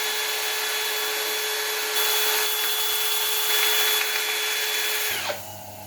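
Steady whirring of a power sander working oak on a woodturning project, a continuous close grinding drone that winds down and stops near the end.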